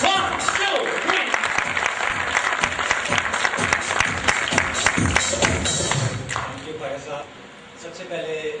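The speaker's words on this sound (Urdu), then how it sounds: "تالیاں کا مزہ آنا چاہیے." Audience applause at a presentation event, dense sustained clapping from a crowd that fades toward the end, with some voices mixed in.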